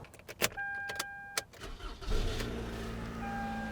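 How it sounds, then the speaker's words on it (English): Car engine cranking with a few sharp starter bursts, then catching into a rough idle after the battery terminal is reconnected, the running engine holding steady and fairly loud to the end. "if I just try to start this car right away"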